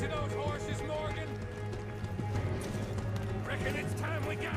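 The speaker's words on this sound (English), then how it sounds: "Let's get to those horses, Morgan!" Horses gallop in the Red Dead Redemption 2 video game, a quick rhythmic run of hoofbeats under game music and voices.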